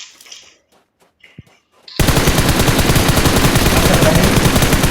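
Rapid machine gun bursts from the PUBG battle royale video game begin abruptly after a quiet stretch with faint talk, then continue loud and dense without a break.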